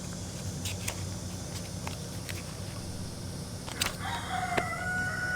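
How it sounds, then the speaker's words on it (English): A rooster crows faintly in the distance over steady outdoor background noise, with a few light taps and rustles nearby. "Shut up, Rooster"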